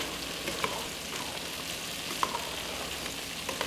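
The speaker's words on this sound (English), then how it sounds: "And now we're going to stir this around" Summer squash ratatouille seasoned with salt and pepper is stirred in a pan: a soft continuous frying sizzle with a few light spoon clinks against the pan.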